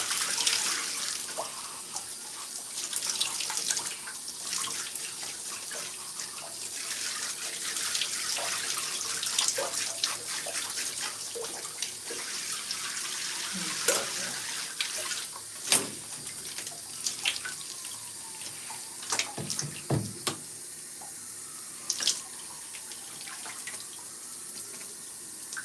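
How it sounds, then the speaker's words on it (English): Hair clips rinsed under a running tap, a steady splashing water stream into a sink with occasional clicks and clatters of plastic clips, fairly close, continuing without talk. "I always rinse off my clips."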